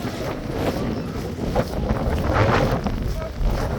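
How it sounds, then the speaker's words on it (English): Strong wind buffets the microphone in a continuous low roar with gusts, and faint surf-like rushing sounds beneath. "God, it's windy."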